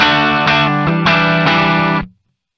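A loud, heavily distorted electric guitar strikes about four hard chords in steady succession, each ringing thick and saturated before cutting off abruptly.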